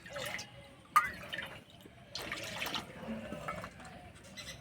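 Water pours and splashes into a metal karahi in a few uneven bursts, fairly close, with faint kitchen clatter and no voices.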